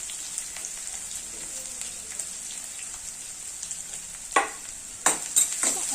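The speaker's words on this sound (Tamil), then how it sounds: "ஆயில் வந்து நல்லா ஆனியன் வந்து நல்லா கோல்டன் ப்ரௌன் ஆகட்டும்" Onion frying in oil until golden brown for a capsicum egg gravy, a continuous close sizzle with light spatter, followed near the end by several quick scraping stirs of a spoon in the pan.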